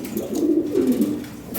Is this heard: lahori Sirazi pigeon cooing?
yes